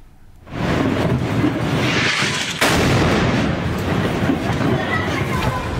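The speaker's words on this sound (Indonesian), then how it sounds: "Rekaman video menunjukkan dahsyatnya ledakan bangunan di kota Gaza." A powerful blast from an airstrike on a building in Gaza City erupts as a sudden heavy boom, followed by a long, dense roar of rumbling debris and noise that stays loud to the end.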